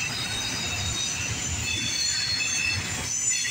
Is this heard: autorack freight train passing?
yes